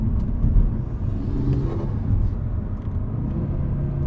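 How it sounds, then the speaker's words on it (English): A 440 hp Audi RS3 fitted with an intake mod makes a low-load pull in fourth gear around 3,000 RPM. Its steady, deep engine rumble and whir drone on without a break, close and loud, with no talk. "there's a low load pull in fourth gear"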